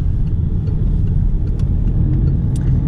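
Car accelerating hard during a driving lesson, heard from inside as a steady, loud low engine rumble with no break, no speech over it.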